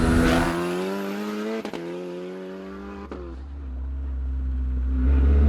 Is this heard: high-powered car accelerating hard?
yes